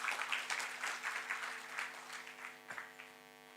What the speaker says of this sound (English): Please grace the stage with a round of applause.